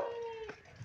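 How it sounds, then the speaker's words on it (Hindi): A dog on a house rooftop with solar panels gives a short, faint whimpering howl, alone and brief. "ये साड़ा कुत्ता बद्दू है"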